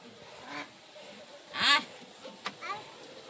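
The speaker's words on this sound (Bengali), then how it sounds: "হাঁস দেখছে।" Ducks quack in the Sundarbans with a few short, nasal calls close by. The loudest call comes near the middle, and faint voices murmur in the background.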